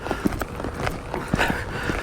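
Hoofbeats of a reining horse ridden in a circle on a loose rein, with a steady, uneven clip-clop of hooves at close range and no voices.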